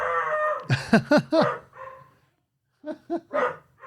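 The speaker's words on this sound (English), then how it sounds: "What dog's in the studio?" A dog barks in a studio, a quick run of four loud, close barks followed by a pause and then three more, with a faint background hum between them.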